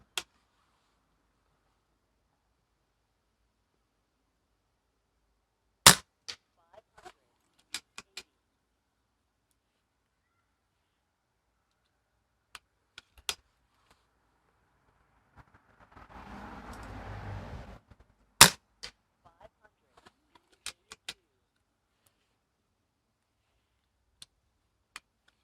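An airgun fires pellets outdoors on a breezy day. Sharp, isolated cracks and clicks are separated by long quiet gaps, and a short burst of soft rustling noise comes midway.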